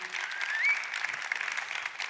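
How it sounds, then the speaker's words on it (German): A church congregation claps for the production team, steady dense applause with a brief whistle or cheer in the middle, fairly close and unbroken. "lass uns dem Production-Team an dieser Stelle einen Applaus geben"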